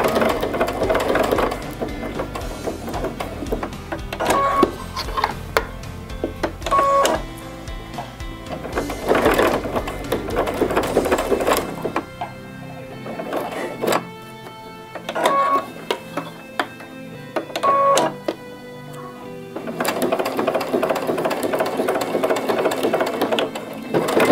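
A sewing machine stitches a baby bib in bursts of steady rapid whirring, stopping and restarting as corners are turned, loud and close with no talk.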